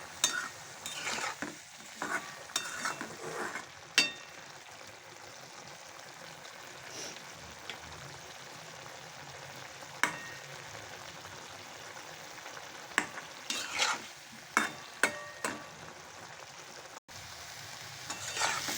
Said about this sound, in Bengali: সবজিটা আমি নেড়ে দিচ্ছি।